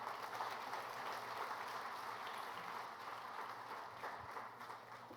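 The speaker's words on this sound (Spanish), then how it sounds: "le da un fuerte aplauso al Rey de Reyes" A church congregation applauds during a Spanish-language service, a faint, continuous patter of many hands heard from a distance for about five seconds.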